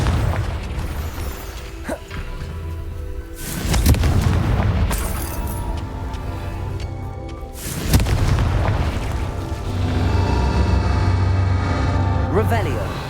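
Confringo blast curse explosions in the Hogwarts Legacy video game: two or three heavy booming bursts burst out over a dense, continuous layer of game sound effects and rumble.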